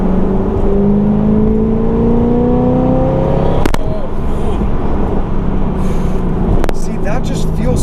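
A 2009 Corvette ZR1 "Blue Devil" accelerating at half throttle, engine note climbing steadily in pitch under loud road and wind roar, with two sharp clicks partway through.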